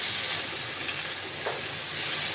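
Spiced pumpkin with turmeric, chili and cumin powder fries in a pan while being mixed, giving a steady soft hiss with a couple of faint scraping strokes.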